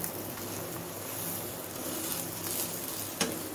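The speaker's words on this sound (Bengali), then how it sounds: "জুনাইরার পরোটা ভাজা হচ্ছে" Paratha frying in butter or olive oil in a pan, a soft continuous sizzle with a faint crackle and one small knock near the end, close but quiet with no talk.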